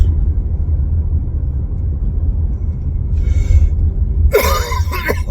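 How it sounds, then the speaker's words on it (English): A single harsh cough bursts out near the end over a steady low rumble, followed by a brief rustle. "sorry, cough."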